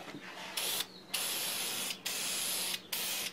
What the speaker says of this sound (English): So I spray the back, then I turn it over. I spray all four sides.